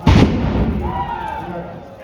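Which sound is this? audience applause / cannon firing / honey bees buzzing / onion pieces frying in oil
cannon firing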